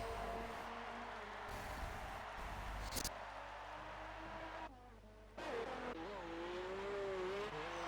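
A race car engine drones steadily through a fast lap in a racing game, the pitch rising and falling with gear changes, briefly dropping out and then returning at full volume with no voices.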